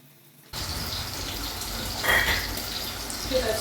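Tap water gushing into a cooking pot in a home kitchen, switching on abruptly and then running as a steady, close splashing stream that swells slightly as the pot fills.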